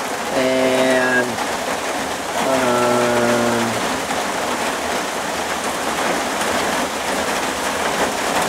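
Steady rain falls on a porch, a dense, continuous hiss of drops on surfaces, close and loud, while a long low horn-like tone sounds twice early on.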